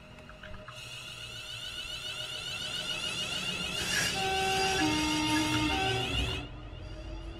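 Train horn in Train Sim World 5 on the West Coast Main Line South, sounding as a long sustained tonal blast with layered pitches, building in loudness and cutting off after about six seconds over steady engine rumble.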